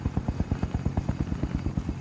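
Helicopter rotor in Call of Duty Warzone, a loud, steady rhythmic chop of rapid blade thumps filling the whole stretch, close and unbroken.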